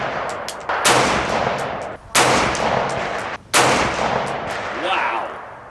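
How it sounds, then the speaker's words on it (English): Three loud, sharp rifle shots from a 224 Valkyrie firing 90 grain hand loads, spaced over a few seconds outdoors, each with a lingering echo, with brief talk near the end. "let's see what your 90 grain hand loads do. Shoot the next target over center."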